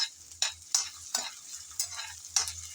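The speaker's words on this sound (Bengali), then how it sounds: "নেড়ে চেড়ে হালকা করে ভেজে নেব" Bathua greens stirred and lightly fried in a pan, with a quiet steady sizzle under repeated sharp scrapes of a spatula against the pan at a brisk, uneven rhythm.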